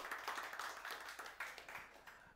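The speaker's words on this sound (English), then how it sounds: "Let's give our attendee a round of applause" Scattered hand clapping from a small group at a Java user group meetup greets an attendee. A brief, faint, uneven patter of claps.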